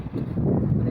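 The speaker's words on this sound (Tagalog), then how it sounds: "ang lakas ng hangin." Strong wind on a fishing coast buffets the microphone in a dense low rumble, steady and close throughout the short moment with no talk.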